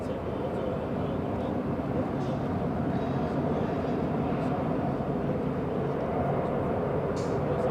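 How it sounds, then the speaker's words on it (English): A KLM Boeing 787 Dreamliner jet flies overhead on approach to Los Angeles International Airport, a loud steady broadband engine roar throughout, with faint talk underneath. "The Dreamliner about to fly overhead."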